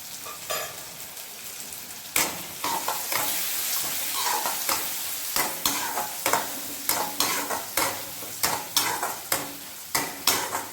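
A spoon repeatedly scrapes and stirs spices with turmeric in a sizzling pan, with rhythmic metallic clinks over a steady frying hiss, close and fairly quiet.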